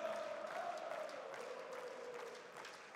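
Crowd of esports fans cheering at a CS:GO major semi-final in Stockholm, a sustained distant roar of voices and clapping that gradually fades, with a faint tonal hum underneath.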